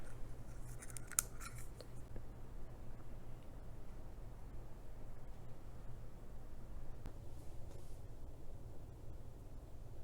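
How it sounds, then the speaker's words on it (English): Scissors snip cardboard into shapes, with a burst of quick close cuts near the start and another short run later, over a steady low background hum. "I cut some shapes out of cardboard"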